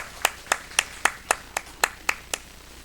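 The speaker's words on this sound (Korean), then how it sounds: "우리 하나님께 영광의 박수를 올려드립시다" A church congregation claps in unison during a Sunday morning service, about nine sharp, evenly spaced claps in a steady rhythm, moderately loud.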